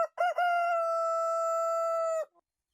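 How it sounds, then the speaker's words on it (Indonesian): A rooster crows once, close and clear: a sharp broken opening, then one long sustained note that cuts off after about two seconds, alone against silence. "Seketika itu juga berkokoklah ayam."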